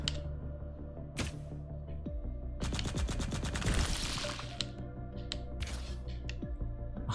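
Bursts of rapid gunfire from a first-person video game, loud and dense in stretches, with sharp shots broken by quieter gaps and background game sounds.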